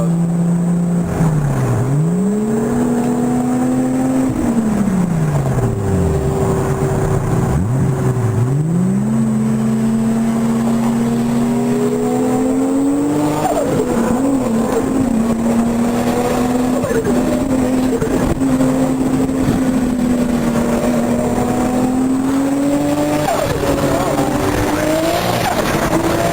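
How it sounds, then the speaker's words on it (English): Two Lamborghini Murcielago cars rev and drive nearby, their engine notes rising and dipping in repeated swoops, with tire squeals and sustained loud roaring throughout, under occasional voices. "They're both Murcielagos."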